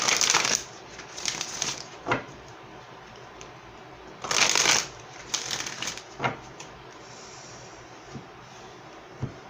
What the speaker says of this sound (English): I'm going to pull an oracle card.